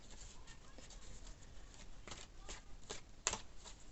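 Tarot cards riffle and flick in quick, soft bursts as they are shuffled, close and quiet, with one sharper snap near the end.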